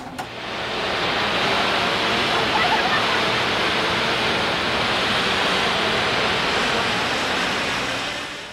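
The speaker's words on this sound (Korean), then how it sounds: "아, 파도 소리가 정말 좋다" Steady, loud rushing ocean waves fill the air continuously, a broad surf-like roar with no breaks.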